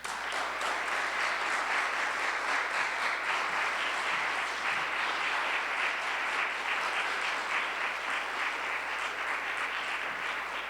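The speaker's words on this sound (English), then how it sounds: "please welcome her with a warm round of applause" An audience applauds warmly at a lecture on Muslim African Americans and Islamic education as the speaker is welcomed. Dense, even clapping carries on steadily at a constant level for about ten seconds.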